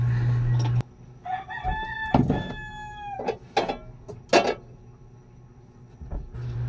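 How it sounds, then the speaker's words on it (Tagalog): Neighbors' roosters crow at dawn, a couple of long, loud, rising-and-falling calls following a burst of noise, with shorter squawks and clucks scattered after them. "sa mga ingay ng mga manok po sa ating kapitbahay"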